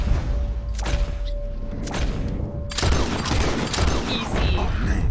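Gunfire from the Red Dead Redemption 2 video game during a hunting session: scattered loud shots and booming impacts with a dense, continuous burst of firing in the second half.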